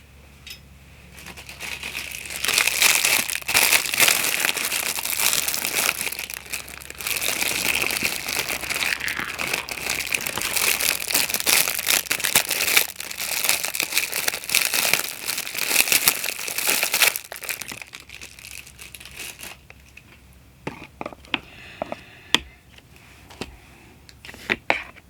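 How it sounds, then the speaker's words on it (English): Paper clay is pressed and smoothed onto a styrofoam ball with dense crinkling and rustling handling noise for most of the stretch, then thinning to sparse clicks and taps near the end. "we're going to put a very thin coat of paper clay on the styrofoam ball"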